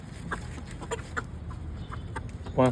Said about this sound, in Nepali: यहाँ उल्टो कुखुरा छ यहाँ हाम्रो